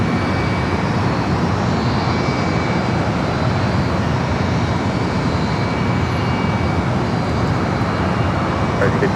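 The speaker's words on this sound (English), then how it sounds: "It was a Volaris that arrived here on the south side." A Volaris Airbus A320 jet, flight 1712 arriving from Mexico City at LAX's south side, roars steadily and loudly throughout, a broad continuous engine rumble with a faint high whine and no pauses.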